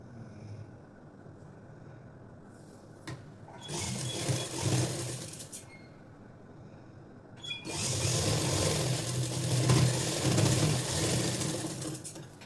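A sewing machine stitching a long frock at the shoulder seam runs in two bursts of rapid mechanical whirring, a short run then a longer steady one, separated by a quiet pause with faint clicks, no voices.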